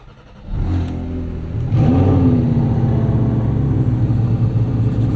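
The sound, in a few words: Porsche 718 Cayman GT4 RS engine starting with key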